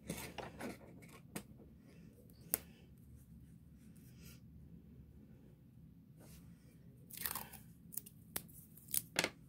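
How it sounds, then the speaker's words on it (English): A craft paper shape being cut and punched out, with soft scraping and crunching handling sounds, then several sharp, close clicks and snaps clustered near the end. "let's cut that one out. We'll punch that one out."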